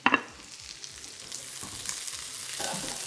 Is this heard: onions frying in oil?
yes